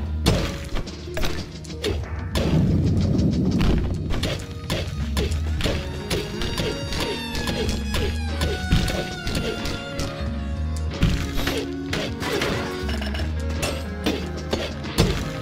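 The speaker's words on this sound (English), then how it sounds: "we're getting extra explosions for mining ore" Mining ore in the video game SteamWorld Dig 2 sets off repeated thumping, crashing explosions over a busy soundtrack of mechanical clanks and music, dense and steady throughout.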